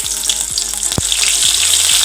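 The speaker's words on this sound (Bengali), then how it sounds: "দিয়ে দিব পেঁয়াজ কুচি" Chopped onion hits hot oil already holding bay leaf and whole cumin, setting off a loud, close, continuous sizzle and crackle that holds steady to the end.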